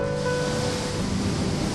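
Ocean waves roll in at Merak beach, a steady broadband roar of surf that continues without a break, with a little wind noise on the microphone.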